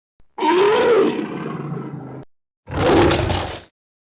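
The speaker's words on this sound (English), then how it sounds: "Then for the actual attack, we've got some more growls" A deep, rough creature growl rumbles for about two seconds, then a second shorter snarling burst follows after a brief pause, loud and close.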